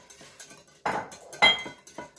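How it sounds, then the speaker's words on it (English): A utensil clinking against a bowl while eggs, salt and milk are whisked together, a few separate clanks with gaps between them, close and moderately quiet, no talking. "I'm going to mix that up really good."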